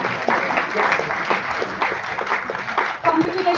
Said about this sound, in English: Please clap for the participants' efforts.